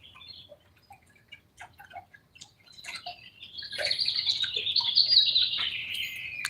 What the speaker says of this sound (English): Some beautiful birds out here.